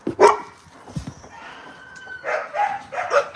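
Dogs bark and yip at feeding time, several short sharp barks at varying distance, excited and uneven, with a rooster-like cry mixed in.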